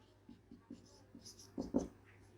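Marker or chalk writing on a board during an accounting lesson, a few short scratchy strokes close by, soft and spaced out against a quiet background hum.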